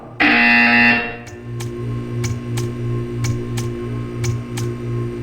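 A loud mechanical buzzer sounds in the video game Portal 2 and then cuts off, followed by a steady low electrical hum with a few faint ticks.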